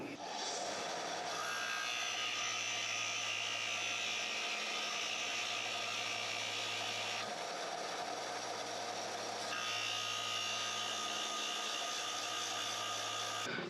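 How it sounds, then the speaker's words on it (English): A power sander flattens a wooden inlay ring made from Battleship Missouri material, a loud continuous whine with a rough grinding hiss that shifts in pitch as pressure changes, close and alone. "I'm going to go ahead and flatten it off on the sander"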